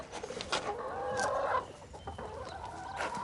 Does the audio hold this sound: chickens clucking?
yes